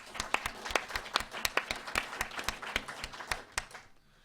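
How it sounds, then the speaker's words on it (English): Sparse applause from a small audience at a Celtic music concert by Cantrip in Rangeley, Maine, distinct individual claps ringing out unevenly before fading to quiet. "So a big round of applause to you"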